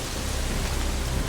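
Steady heavy rain pours down in a broad, dense hiss with a low rumble beneath, a continuous downpour during an alligator-infested flood in the film Crawl.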